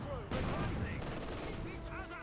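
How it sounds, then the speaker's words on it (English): Mortar fire and explosions in the strategy game Company of Heroes 2 during a 1v1 match, with repeated booming blasts and battle noise layered over a constant game soundscape. "While the mortars keep blasting away"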